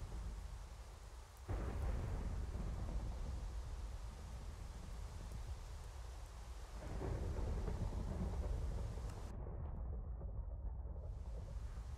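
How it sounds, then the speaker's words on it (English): Thunder rumbles low and heavy through a steady hiss of rain in the Minecraft video game, with a fresh rolling crash partway through. "It's a dark and stormy day as I come to take a look at my empire."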